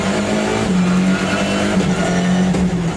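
A Citroën Xsara T4 WRC rally car is driven hard on Citroën's Spanish test track, its engine holding a loud, steady high-revving drone with brief shifts in pitch over a few seconds.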